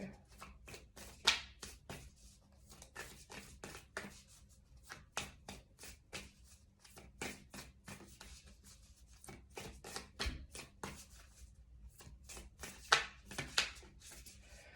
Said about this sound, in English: we're off to a great start with all the shuffling.